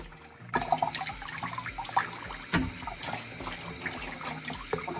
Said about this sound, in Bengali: এবার আরও একবার খুব ভালো করে কাঁকড়াগুলোকে ধুয়ে নিচ্ছি